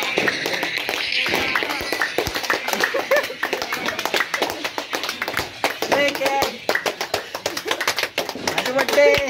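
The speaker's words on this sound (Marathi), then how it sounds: "चला टाळ्या वाजवत चला." A group of people clap irregularly as they walk together at night on the way to a birthday celebration, sharp close claps mixed with footsteps and chatter, voices talking throughout.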